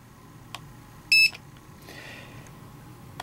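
A barcode scanner gives a single short, high electronic beep against a quiet background, followed by faint soft rustling.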